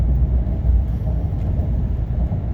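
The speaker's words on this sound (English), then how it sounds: "You can hear the wind." Steady low rumble and broadband wind noise inside the cabin of a Ram Laramie Hemi pickup truck cruising on the road, continuous and moderately loud with no voices.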